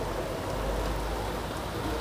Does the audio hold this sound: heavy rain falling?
yes